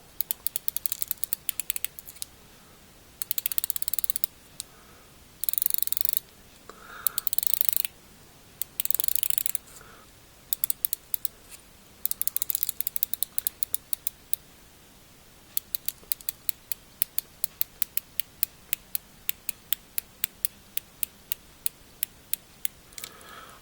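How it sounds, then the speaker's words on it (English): The unidirectional rotating bezel of a Seiko Solar Chronograph diver's watch (SSC019) is turned by hand, giving bursts of crisp, close ratchet clicks separated by short pauses in an otherwise quiet setting. "Let's start by turning that bezel."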